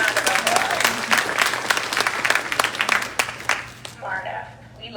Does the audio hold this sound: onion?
no